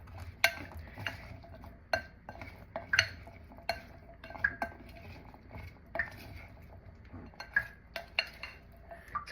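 A metal spoon clinks against a dish while mixing a garbanzo salad, giving sharp, irregular taps and scraping stirs close by in a quiet room.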